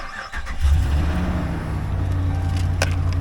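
A 5.7 liter engine in a 2015 Dodge Ram 1500 Longhorn Limited pickup with 109,077 miles fires up at a wrecking yard: a brief crank, then the V8 catches into a steady, deep, close idle with no talk.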